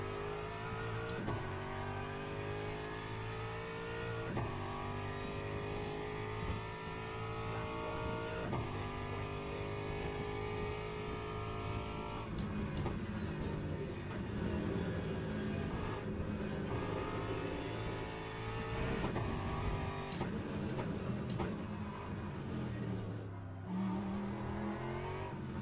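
Race car engine in the sim racing game Le Mans Ultimate, a loud continuous drone rising through repeated upshifts with steady revving and brief lifts off the throttle, no voices over it.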